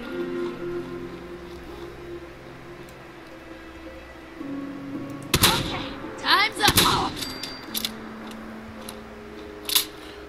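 Shotgun fire in Fallout 4, a few sharp loud blasts with mechanical reload clicks between them, over a low ambient game drone.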